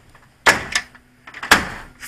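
A door in a workshop where a roof extension is being built bangs twice, each hit sharp and fairly loud with a short rattle after it, a quieter knock following the first; no talk.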